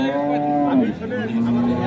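A dairy cow lets out a long, loud moo nearby at the Ambari cattle market in Thakurgaon, the low call holding steady before sliding down, with faint voices in the background.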